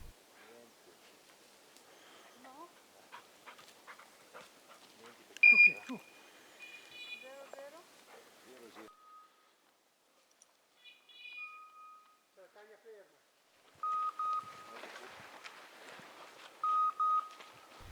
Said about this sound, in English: there's a chorus of beeps from the dog's collars indicating they're on point